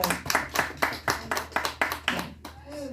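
A small gathering at a Korean prayer and counselling centre claps for a participant, about nine even, rhythmic claps in unison, close and clear, before a voice speaks.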